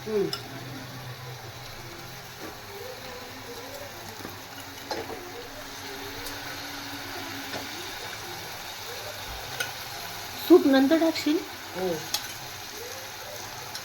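Mutton masala cooks in oil in a home kitchen, giving a low steady sizzle with occasional stirring clinks. A brief louder burst of clatter comes near the end, and someone speaks briefly over it.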